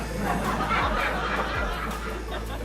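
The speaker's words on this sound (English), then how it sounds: "What about the laugh track?" A canned sitcom-style laugh track plays on a livestream, a short burst of crowd chuckles and snickers over a low, pulsing background music bed.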